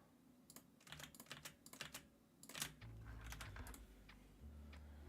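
Fingers type on a computer keyboard close by, with quick uneven clusters of clicking keystrokes and short pauses, over a low background hum.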